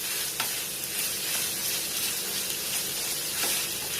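Diced onion and green pepper sizzle steadily in a hot pan, a continuous close frying hiss with faint stirring scrapes throughout.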